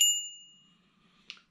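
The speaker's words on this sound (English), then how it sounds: "So it was like a little bell." A small souvenir bell decorated with the United Kingdom gives a single bright ring that decays over about a second, then a faint light clink, heard close and with no talk.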